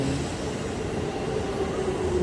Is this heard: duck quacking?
no